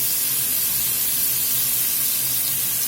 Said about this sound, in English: We're just going to let these vegetables saute here about 8 to 10 minutes.